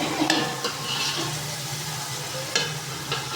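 Rice and salt get stirred in a cooking pot, a soft scraping and sizzling bed broken by a few sharp clinks of a utensil against the pot.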